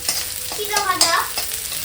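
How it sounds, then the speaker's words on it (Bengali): Puffed rice (muri) roasting in a pan in a home kitchen, stirred with a utensil: close, steady scraping and soft crackling sizzle with a few sharper clinks, no talk. "চলে আসলাম মুড়ি ভাজতে অনেকদিন পর মুড়ি ভাজছি"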